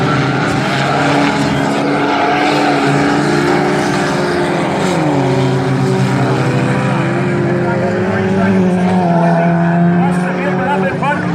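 Four-cylinder race cars roar around Valley Raceway in a heat race, engines loud and close with shifting pitch as cars pass and trail off, a race announcer talking over the engine noise throughout.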